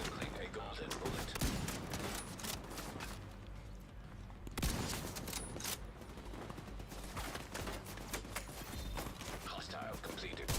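Rapid gunfire from The Division 2 with Pestilence and Chameleon weapons: dense bursts of shots and sharp cracks run continuously, with a heavy impact near the middle, while someone talks over the shooting.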